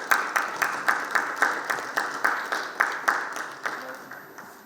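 Steady rhythmic clapping from a conference audience greets a panel member at a live analytics event, with about a dozen distinct claps spread evenly across a few seconds, fairly soft and slightly distant.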